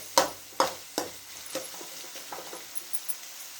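Dried red chillies frying in a pan, a few sharp crackling pops at the start followed by a quieter, scattered sizzle and small spits.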